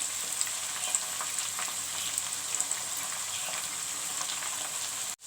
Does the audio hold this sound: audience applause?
no